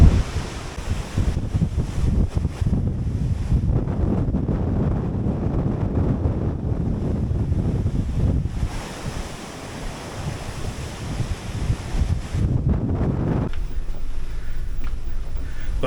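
Open North Atlantic waves in November, heard from aboard the ocean liner Queen Mary 2, a steady rush of surf and sea noise mixed with gusting wind buffeting the microphone.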